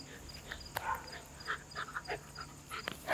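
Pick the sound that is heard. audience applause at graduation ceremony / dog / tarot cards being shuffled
dog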